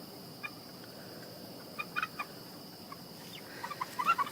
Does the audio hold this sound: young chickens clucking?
yes